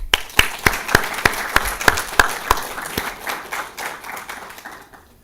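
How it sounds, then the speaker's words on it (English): An audience at a conference applauds the organizers, a run of sharp, fairly close individual claps at a quick steady beat over softer crowd clapping that gradually thins and fades out. "give Michael, Ed, Eric, Sam, David, and all the other organizers a big round of applause"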